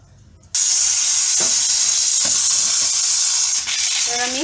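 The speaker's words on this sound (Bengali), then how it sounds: "কড়া বসিয়ে সবজিগুলো ভেজে নেব।" Vegetables, starting with potatoes, fry in hot oil in a wok for a vegetarian khichuri, giving a loud, steady sizzle that starts abruptly and holds without a break.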